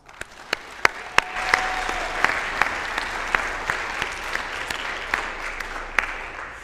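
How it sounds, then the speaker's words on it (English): Applause for a young girl at a Kid Governor inauguration, with a few sharp, close individual claps standing out over a broader room of clapping that holds steady and then slowly thins. "So let's give her one more applause."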